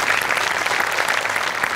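Studio audience at a Marathi comedy show clapping, a dense, steady burst of applause from a full crowd, close and loud throughout.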